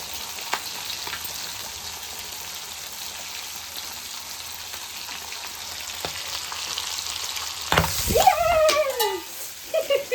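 Fish frying in hot oil gives a dense, continuous sizzle with heavy spattering that grows busier near the end, where a brief high, wavering tonal sound cuts in over the crackle.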